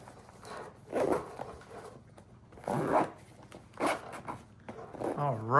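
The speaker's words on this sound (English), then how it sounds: "And let's see if we can zip it." A zipper is drawn closed on a ham radio emergency go-kit bag in a few separate close pulls with pauses between them, while someone talks quietly.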